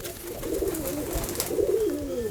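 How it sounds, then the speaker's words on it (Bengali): Released domestic pigeons, a mix of Giribaz and local birds, give soft rolling coos that rise and fall in two or three phrases, close by against a light outdoor background. "পাঁচ জোড়া কবুতর ছেড়ে দিলাম"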